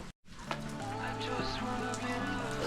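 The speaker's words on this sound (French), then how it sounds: "Il pleut beaucoup." Heavy rain pours down steadily on a cold day during an outdoor endurance running challenge, a dense hiss that fills the whole clip after a brief dropout at the start, with some voices mixed in.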